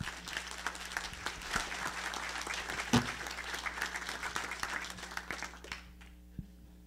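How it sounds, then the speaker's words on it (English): An audience at a community talk event applauds warmly, a full, steady wash of clapping that fades out near the end, leaving a low hum. "A round of applause for Jose."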